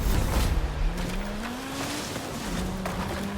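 Video game Audi Quattro race car engine drones steadily at moderate loudness, its pitch rising gradually then dipping and climbing again, with a rough noisy road or water wash beneath.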